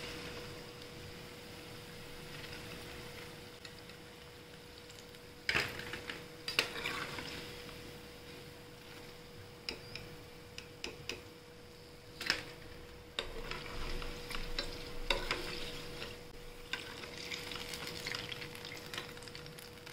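Bottle gourd kofta balls frying in hot oil in a pan, a soft continuous sizzle broken by several sharp clinks and scrapes of a utensil as pieces are lifted out, close by with no talking.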